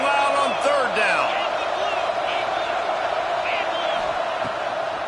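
Stadium crowd in a football video game swelling louder on third down, a steady broad roar with scattered whoops and shouts running continuously throughout.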